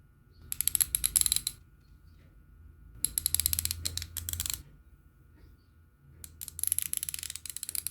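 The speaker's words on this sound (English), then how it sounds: "here are some nice ASMR ratchet clicks for you" A 3/8-inch socket ratchet clicks close up in three separate runs of quick, crisp pawl clicks, each lasting about a second or more, with brief quiet gaps and a faint low hum underneath.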